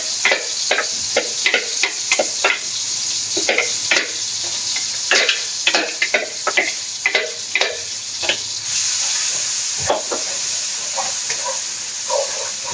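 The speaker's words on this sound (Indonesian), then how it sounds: "Kita tumis." A blended paste of shallot, garlic and large red chili sautés in a pan, a constant loud sizzle broken by repeated scraping stirs of a spatula, close up and without speech.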